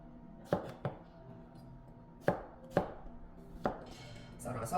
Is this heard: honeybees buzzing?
no